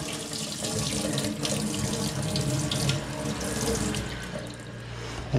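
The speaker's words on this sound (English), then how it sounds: "Now we just need to run the tap a bit." A tap runs steadily, water splashing continuously into a sink nearby with an even, unbroken rush.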